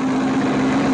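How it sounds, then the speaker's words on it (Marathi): A Swraj Target 630 tractor engine runs at high RPM, about 2700, during a live speed test, giving a loud, steady, close drone with a strong constant hum and no voices. "2700 आरपीएम मध्ये ट्रॅक्टर चालू आहे."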